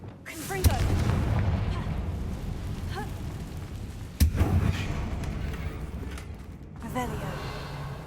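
Confringo blasting spell fired in Hogwarts Legacy while exploring mines: two sharp booming blasts, one near the start and another midway, each followed by rumbling decay over a dense game soundscape.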